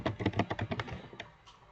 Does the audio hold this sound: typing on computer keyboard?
yes